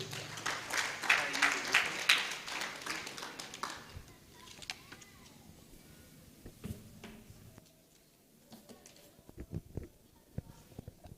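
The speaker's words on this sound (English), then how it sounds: "Give her a round of applause." Audience applause at a diaspora convention, a burst of clapping for a speaker from an investment authority that fades after a few seconds into scattered taps, shuffles and room noise.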